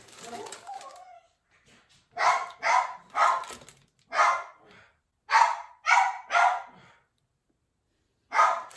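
A dog barks in an outdoor garden setting: a quick pair of yaps, then two runs of three sharp barks and a final single bark, moderately close, with a faint voice murmuring at the start.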